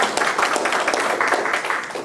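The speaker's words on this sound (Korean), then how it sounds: "발표하신 김충식 선생님께 박수" Applause for a presenter at an academic literary conference on the Korean poet Han Yong-un, a steady patter of many hands clapping through the whole stretch, moderately loud and even, with no talk over it.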